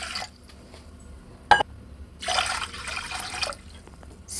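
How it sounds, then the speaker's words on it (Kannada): Two cups of water are poured into a cooking pot for menthe ganji: a single drip or clink first, then a sustained splashing pour lasting over a second, with a brief final trickle. "ಫಸ್ಟಿಗೆ ನಾವು ನೀರು ಹಾಕಿಡುವ ಸ್ವಲ್ಪ."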